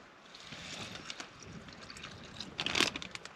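About two deciliters of water pour from a bottle outdoors, a faint, soft trickle that swells into a louder splashing gurgle just before it stops.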